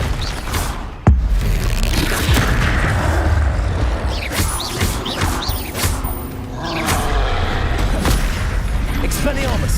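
Spell explosions in Hogwarts Legacy, Bombarda and Confringo, land as a sharp close impact followed by repeated thuds and crashes, with a voice talking over the combat.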